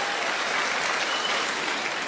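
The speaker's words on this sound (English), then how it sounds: "You applauded for beaver tails." Comedy club audience bursting into dense, sustained applause that holds at an even level throughout, with no talking over it.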